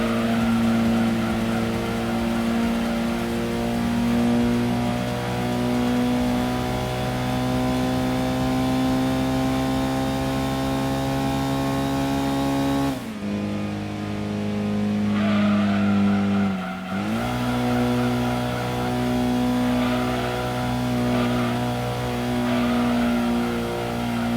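A Toyota Yaris races in Gran Turismo 2, its engine droning loud and steady with rising pitch through gear changes, a brief drop-out midway, then tire squeal and renewed acceleration, no talking.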